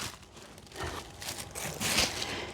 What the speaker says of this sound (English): we've got the plastic bag whose only purpose